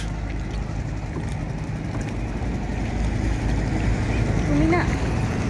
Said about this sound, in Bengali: এই যে আমাদের চালক দাদা চালাচ্ছেন বোট